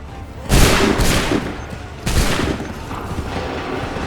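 Soldiers fire musket volleys in Assassin's Creed III, with two loud, close crackling blasts a couple of seconds apart, each trailing off into a rolling echo.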